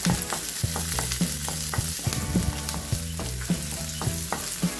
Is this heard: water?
no